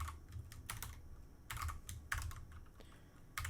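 Code is typed on a computer keyboard, with quick bursts of close, crisp key clicks split by short pauses, fairly quiet and with no voice over them.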